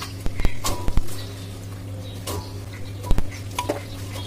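Pieces of washed watermelon peel are dropped into a pressure cooker, giving a few scattered close clunks and rattles over a steady low background hum.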